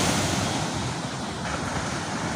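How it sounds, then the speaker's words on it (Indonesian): Continuous broadband rush of ocean surf at night along a camping shore, loud and close, with wind buffeting the microphone and no distinct individual wave breaks. "Ombaknya. Jelas banget ombaknya."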